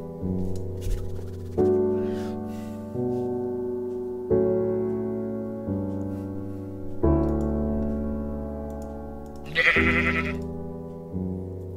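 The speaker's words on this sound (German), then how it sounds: "Diese Schafe, die mir explodieren." Sheep in the Minecraft video game bleat repeatedly in a run of wavering, tonal calls, one after another at a steady pace, close and clear with no talking over them.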